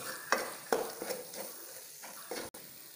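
Onion and masala paste with salt being sautéed and stirred in a pan for chicken Ambur biryani, a soft steady sizzle broken by several sharp scraping strokes of the spoon.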